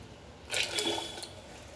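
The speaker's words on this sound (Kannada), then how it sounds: "ಅದಕ್ಕೆ ಇನ್ನೊಂದು ಸ್ವಲ್ಪ ನೀರು ಹಾಕ್ಬಿಟ್ಟು" Water poured into ground horse gram paste for a soup, a short splashing gush after a brief quiet moment, close and moderately soft.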